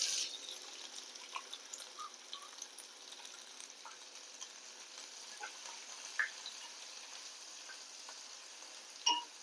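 Chopped onion frying in oil with whole spices, a soft continuous sizzle with faint occasional clicks, fairly quiet and alone.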